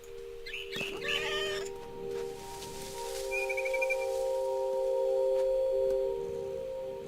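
A cat meows in the video game What Remains of Edith Finch, with a short harmonic cry near the start over a steady game hum and a faint chirp partway through.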